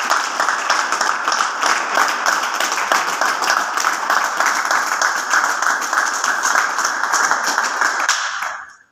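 An audience at a Modicare gathering claps steadily for about nine seconds, dense, even applause that cuts off abruptly at the end.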